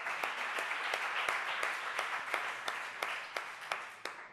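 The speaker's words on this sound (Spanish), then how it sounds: "Bueno, un aplauso." Applause from an audience at a pedagogy seminar, a moderately quiet wash of many hands clapping with a few sharper individual claps standing out, gradually thinning toward the end.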